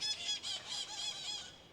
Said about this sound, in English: what you're hearing, the birds, those are actually parrots